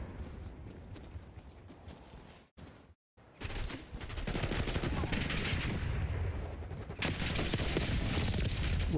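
In the video game Black Ops 6, a Marine shotgun fires in loud, sharp bursts, with a brief silent gap before heavier gunfire resumes in dense, repeated blasts.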